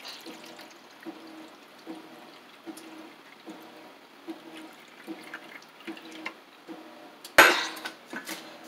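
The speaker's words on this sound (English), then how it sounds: "What we're going to do is we're going to put some water into the bottom pan until it reaches halfway up." Water pours steadily into the bottom pan of a baking setup for a flan, a soft continuous trickle with faint rhythmic splashes, then a brief louder clatter near the end.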